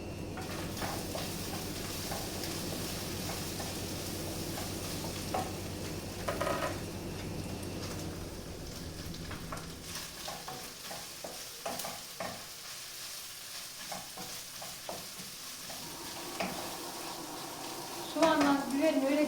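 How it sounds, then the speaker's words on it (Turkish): Ingredients sautéing in a pan while being stirred, a steady sizzle with scraping strokes throughout, close and moderately loud, fading a little in the second half before louder stirring returns at the end. "Dakikada kavruluyor."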